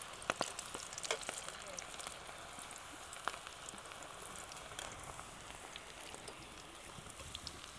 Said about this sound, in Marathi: अशाच एकदम आपल्याला लालसर होस तर तळून घ्यायच्या भेंड्या